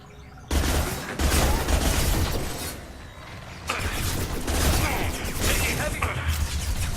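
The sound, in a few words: gunfire in the video game Mass Effect 2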